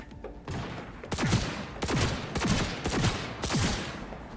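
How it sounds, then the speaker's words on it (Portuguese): Johnny Silverhand's Malorian 3516 pistol fires in Cyberpunk 2077, a run of about six loud, sharp shots spaced roughly half a second apart, each ringing out briefly over a steady background din. "O doidão tá atirando em mim com a minha arma."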